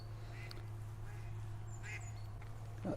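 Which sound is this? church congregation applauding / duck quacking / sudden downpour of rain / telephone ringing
duck quacking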